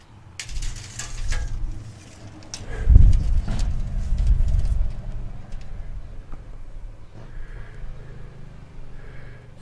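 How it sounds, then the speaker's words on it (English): Ratchet clicking as it tightens the adjustable control arm turnbuckle under a Jeep Grand Cherokee ZJ, a close, steady run of mechanical ratcheting that swells to a louder burst midway, then eases into lighter clicks, with no talking. "Tighten up our turnbuckle."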